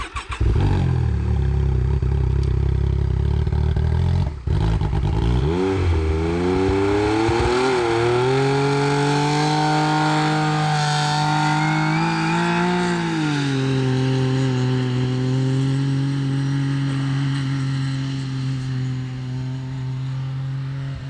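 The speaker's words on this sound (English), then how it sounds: "Oh my gosh, listen to the turbo already." A nitrous-equipped Can-Am X3 turbo side-by-side engine revs and pulls under load, its pitch climbing as the throttle opens, then settling into a loud, sustained drone close by with no talking.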